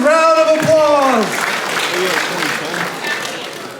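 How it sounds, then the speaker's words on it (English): High school audience applauding in a gym or auditorium, a broad wash of claps with a voice speaking over the opening second, the applause carrying on steadily afterward. "Round of applause."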